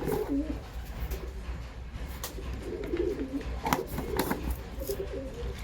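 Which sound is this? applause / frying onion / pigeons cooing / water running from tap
pigeons cooing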